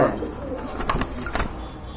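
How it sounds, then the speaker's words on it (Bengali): A big-sized pair of pigeons gives a short, low coo close by, with a couple of soft clicks and light background noise. "এই যে দেখেন মাশাআল্লাহ খুবই সুন্দর কিন্তু বিগ সাইজের এক জোড়া কবুতর"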